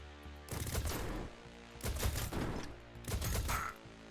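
An enemy turret fires in the turn-based bullet hell roguelike Enter The Chronosphere, heard as three loud, dense bursts of rapid gunfire separated by short pauses.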